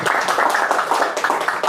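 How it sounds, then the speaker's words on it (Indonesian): A lecture audience in Indonesia bursts into brief applause. The clapping is quick and fairly close, with a pulsing rhythm, and lasts under two seconds. "Tepuk tangan lagi."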